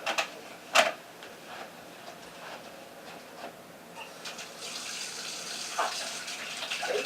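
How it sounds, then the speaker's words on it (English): Tap water runs into a sink during handwashing, a soft steady splashing gush that grows fuller and louder in the second half, with a sharp clunk near the start. "Excuse me while I wash my hands."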